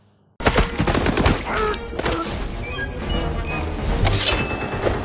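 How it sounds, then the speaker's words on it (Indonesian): Gunfire in the 2022 action film Violent Night breaks out suddenly after near silence, a dense burst of loud shots mixed with crashes and thuds that runs throughout. "mereka mendengar suara tembakan"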